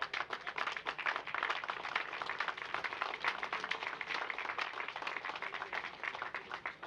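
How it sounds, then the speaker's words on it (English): An audience at a UPS Circle of Honor ceremony for 25 years of safe driving applauds, with dense, even clapping that holds steady throughout at a moderate distance. "how about a big round of applause for them?"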